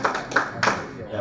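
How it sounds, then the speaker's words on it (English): A few people clap briefly in a church gathering, three or four soft claps spread over about a second, mixed with voices nearby. "Let's clap for Ken."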